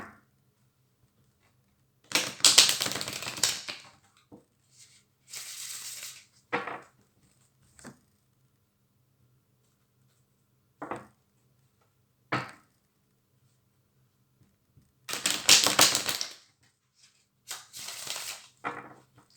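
Oracle cards shuffled by hand in several separate bursts of crisp riffling and slapping, close and fairly loud, with quiet pauses between each round.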